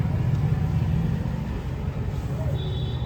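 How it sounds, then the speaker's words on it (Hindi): A vehicle engine rumbles close by in a narrow lane, heard from an e-rickshaw, a low steady drone that eases slightly as it moves along, with a faint high tone near the end. "एक बार ये वाली गाड़ी निकल जाए उसके बाद में जाएंगे फिर हम इस गली में"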